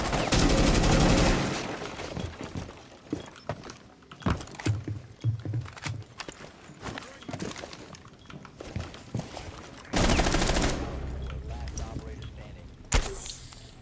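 Rapid bursts of automatic gunfire and single shots ring out during a round of the video game Rainbow Six Siege, loud and repeated in clusters, with some crashing breaks in between as players talk over the action.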